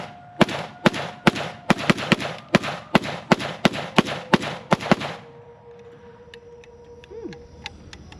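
Rapid string of about a dozen sharp, loud gunshots from an AK-47 pistol firing at a steady rhythm, then a lower ringing tone and a few scattered fainter pops as the firing stops.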